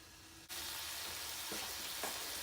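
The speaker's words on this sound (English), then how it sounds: "put the sausage in the pan so it can start browning" Sausage browning in a pan for biscuits and sausage gravy: after a quiet moment, a sudden broad sizzle starts and holds steady and close, with a couple of faint stirring scrapes partway through, no voices.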